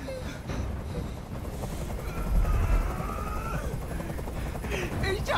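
Helicopter in the video game Detroit: Become Human, a low rumbling rotor drone under tense game ambience, swelling louder partway through, with a voice briefly heard.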